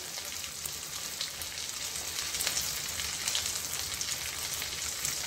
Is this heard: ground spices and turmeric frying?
yes